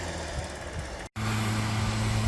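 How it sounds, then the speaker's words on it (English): A leaf blower runs with a steady droning roar, and a low tonal hum holds throughout, broken by a very brief cutout near the middle. No one speaks. "and the leaf blower"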